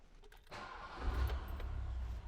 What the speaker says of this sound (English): Let's crank her over and see how she goes.